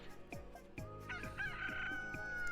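A cartoonish rooster crow rings out in Billy Hatcher and the Giant Egg, with several descending chirps and a drawn-out call, clear and close amid game sound effects, no talking.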